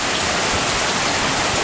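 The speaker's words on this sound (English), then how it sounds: "The hail was gone, and the hail came back." Hail pelting down during a storm in eastern Kentucky, a dense, steady hiss of countless impacts on surfaces, loud and continuous with no talking.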